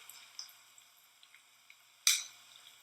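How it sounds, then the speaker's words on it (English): Gouda balls fry in hot oil with faint, scattered pops and ticks, then a short, brighter sizzling burst. The setting is quiet, with no voices. "See how those are all bubbling?"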